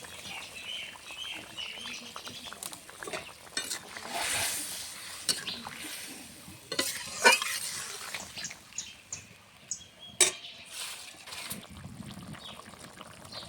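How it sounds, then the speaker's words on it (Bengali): Sour broth with small fish bubbling at a boil in a pot, giving irregular soft pops and gurgles with a few sharper bursts, quiet voices faintly underneath. "দেখো ঝোলটা ফুটে উঠেছে"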